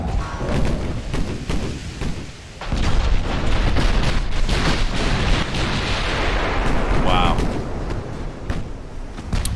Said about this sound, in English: These 14-inch guns are just beasts.